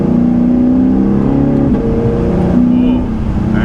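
A Lexus RC F engine hums loudly and steadily, its pitch shifting midway as it changes into third gear, with the drone continuing close by.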